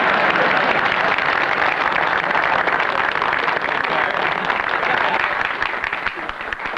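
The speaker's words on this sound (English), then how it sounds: "Herbie Jackson deserves another big round of applause" A live audience applauds for several seconds during a family sitcom meeting scene, a dense, steady wash of clapping at even loudness that tapers slightly at the end.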